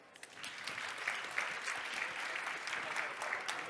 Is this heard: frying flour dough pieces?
no